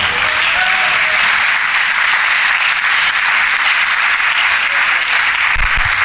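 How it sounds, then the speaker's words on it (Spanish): Members of a church congregation applaud for Jesus, a thick, even roar of many hands clapping without pause from start to finish, with little else audible. "Denle un fuerte aplauso a Jesús"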